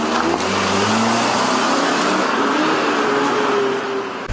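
A car pulls away as robbers flee after a fatal armed carjacking, its engine revving steadily loud and close for several seconds with a rushing road noise.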